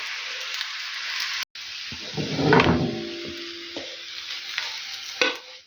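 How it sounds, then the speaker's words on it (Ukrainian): Crepes sizzling in a frying pan as they are flipped, a steady close frying hiss with a soft thud and scrape at the turn and a louder swell of sizzle afterward. "буду пробувати перевертати гарненько перевертаються."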